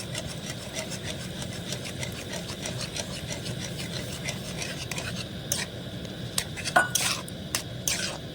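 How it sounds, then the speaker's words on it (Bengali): Semolina stirred into boiling water in a pot: steady bubbling hiss with a continuous scraping stir, and a few louder clinks of the spoon against the pot toward the end. "এবার আমি হাফ বাটি সুজি নিয়েছি সেটাকে এভাবে করে দিয়ে দেবো দিতে থাকতে হবে আর নাড়বে এভাবে"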